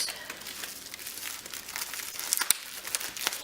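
Crinkly wrapping being pulled off a package taken from a large shipping box, a steady rustle and crumple close by with a few sharper tearing snaps near the end.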